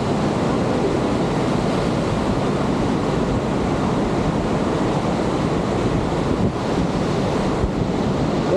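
Strong mountain river in Georgia rushes loudly and steadily, swollen by spring snowmelt, a dense roar of churning water close by with wind buffeting the microphone.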